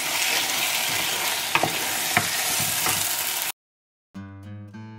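Prawns frying with ginger and garlic give a loud, close sizzle with a few sharp spatter pops while being stirred, cutting off abruptly to silence before a short musical tone sequence ends the clip.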